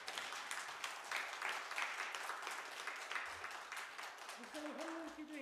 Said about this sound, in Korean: 목사님 다시 한번 크게 박수해 주시고요